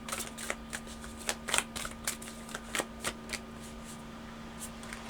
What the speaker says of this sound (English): Let's pull some of these random cards.